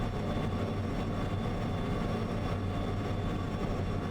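A locomotive in Derail Valley rolls with a steady, dense low rumble and mechanical drone, continuous and fairly loud with no voices.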